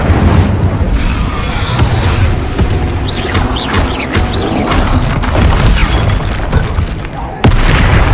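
An Incendio fire spell cast in the Hogwarts Legacy video game, a loud sustained roar of bursting, crashing flame with dense rumbling impacts throughout amid busy combat effects.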